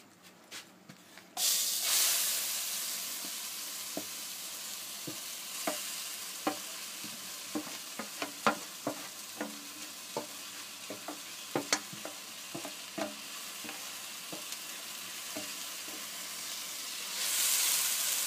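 Grated raw mango cooks in a pan for chutney over low heat, giving a steady close sizzle with frequent sharp stirring clicks and scrapes throughout. Nobody talks.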